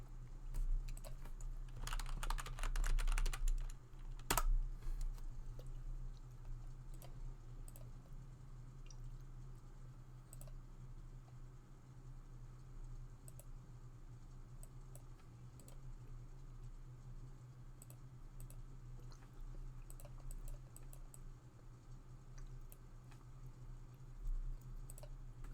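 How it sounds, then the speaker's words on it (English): Computer keyboard typing with rapid key clatter, loudest in a dense burst early on and then fading to sparse scattered keystrokes over a steady low hum, with no talking. "You can hear some nice keyboard ASMR, courtesy of my keyboard."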